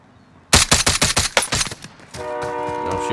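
DMR rifle fire in the video game Call of Duty Warzone: a loud, rapid string of about ten sharp shots, followed by a steady tonal hum.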